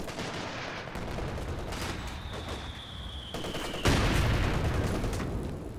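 Company of Heroes 2 battle with bazookas and gunfire, a dense continuous rattle of weapons fire with a loud explosive blast midway that keeps the noise heavy afterward.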